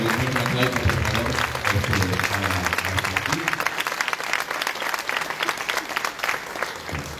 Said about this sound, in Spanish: me gustaría un aplauso, por favor